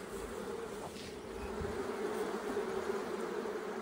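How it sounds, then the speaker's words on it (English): Dense, steady buzzing of many honeybees swarming around an open hive box during a mid-season split, a continuous close drone that fills the clip without any talk. "super ton of bees there."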